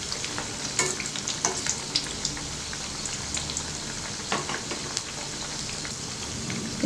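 Horsegram masala vadas deep frying in hot oil over a medium flame, with a dense, crackling bubble close up and scattered sharper pops and spatters throughout.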